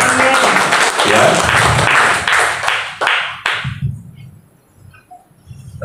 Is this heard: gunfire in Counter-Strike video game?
no